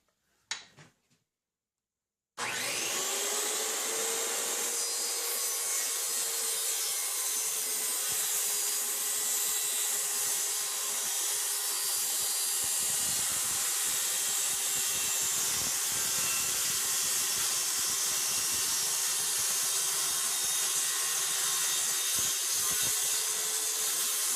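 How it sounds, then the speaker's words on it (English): Power saw freehand cutting a tapered wooden leg, a few brief knocks then a loud, steady high-pitched whine running continuously at close range. "I'm just going to cut and stay a little away from the line because I'm just going to freehand this"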